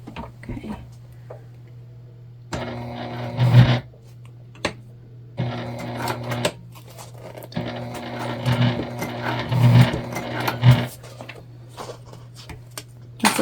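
A sewing machine stitches an Olivia Bag in short bursts of rapid mechanical whirring separated by pauses over a low steady hum, close and clear.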